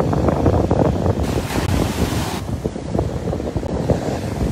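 Surf on the northern shore of the Sea of Galilee (Kinneret) washing in steadily, loud and close, with heavy wind buffeting the microphone throughout and no talking.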